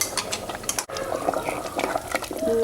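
Curd is stirred into a pot of mutton rogan josh curry, a close, wet, thick squelching and scraping of spoon through liquid with a brief clack, continuing steadily for a couple of seconds.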